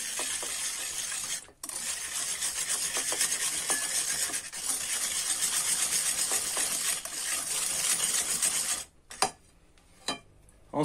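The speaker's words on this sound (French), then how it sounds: "Et vous mélangez." Vanilla sugar being mixed into cake batter for a creamy yogurt raspberry cake, a steady close scraping and stirring in a bowl that runs continuously, then drops to a few separate scrapes and knocks near the end.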